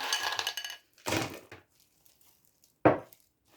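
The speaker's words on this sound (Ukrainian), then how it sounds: "На низ кладу керамзит крупний." Coarse expanded clay pebbles rattle into a plant pot in three short, close pours, the last one brief and sharp, with quiet gaps between them.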